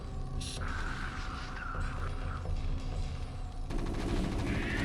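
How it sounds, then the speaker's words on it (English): Siege tank fire booms and crackles in StarCraft: Brood War amid a busy Terran versus Zerg battle, a dense layer of repeated blasts and unit sounds that runs continuously and grows louder toward the end. "Ultra just kind of running through Spider Mines and tank fire, dying."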